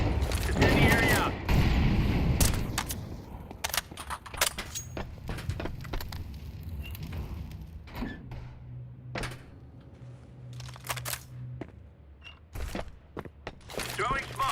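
An incendiary grenade thrown in Counter-Strike 2, heard as a clattering impact and burst early on, followed by scattered shots, clanks and game sounds at moderate loudness.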